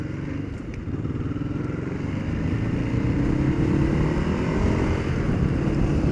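A Ducati Hypermotard motorcycle being ridden in its 75 horsepower mode, its engine droning loud and steady throughout, a low continuous rumble that swells slightly as the bike gathers speed.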